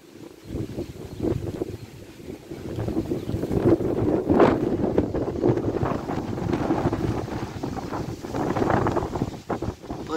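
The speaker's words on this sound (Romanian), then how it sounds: "Asta oricum e vânt puternic." Strong summer storm wind roars near a village, buffeting the microphone in a loud, continuous, gusting rumble with no speech.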